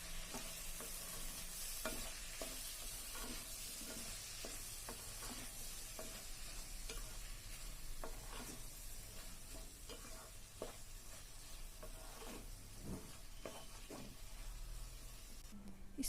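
A bottle gourd and dried prawn curry simmering on low heat in a pan is stirred, the spoon scraping and clacking in irregular strokes over a constant soft sizzle, fairly quiet and without voices.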